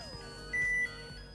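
Zojirushi Micom AAQ-10/18 rice cooker sounding a single steady electronic tone from its selectable melody setting, heard alone over a faint background hum.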